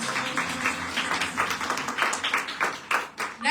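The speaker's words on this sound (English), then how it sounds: "So colorful. Let's hear a round of applause." Audience applause at an international women's conference, a dense patter of many hands clapping steadily for a few seconds, fairly distant and moderately quiet, with irregular bursts and no clear speech.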